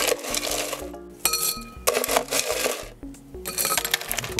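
Crushed ice poured into a Collins glass for a mojito, a dense run of clinking, rattling chunks that pauses and resumes in bursts, close and moderately loud, with no talk.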